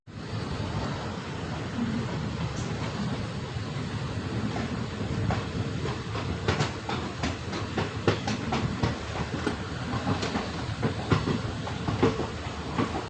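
A Bengaluru–Hospet intercity passenger train runs on rails, its wheels giving a steady rumble and rhythmic clicks at the rail joints, heard from on board with no voices.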